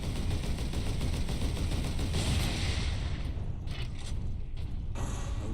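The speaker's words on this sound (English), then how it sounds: "Missile launcher." Missile launcher fire in the video game Space Marine, a continuous loud barrage of rapid booming shots and blasts over heavy low rumble, tapering with a few distinct impacts near the end.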